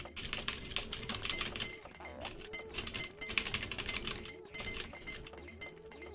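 Hard, rapid typing on a computer keyboard during a video game, a dense run of loud clacking keystrokes in bursts with brief pauses, with game sounds playing underneath.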